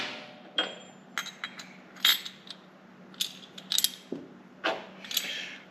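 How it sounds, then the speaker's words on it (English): Metal tool parts clink, tap and ratchet as a bearing puller is taken apart and an old front wheel bearing is pulled from a Harley-Davidson wheel, with scattered sharp close knocks and rattles over a quiet background. "Take our bearing puller back apart, pull our old used bearing off"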